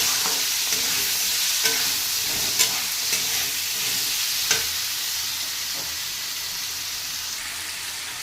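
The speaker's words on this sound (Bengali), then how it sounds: "সব কিছু ভালো করে ভাজা ভাজা করে নেব।" Onion, potato and garlic frying together in a pan, a steady dense sizzle throughout with a few soft stirring clicks and scrapes, fairly close and even in loudness.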